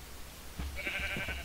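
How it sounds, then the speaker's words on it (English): Sheep bleating in the Minecraft video game, a few short bleats repeating at moderate level with a faint background tone, no talking. "Come on, sheepy."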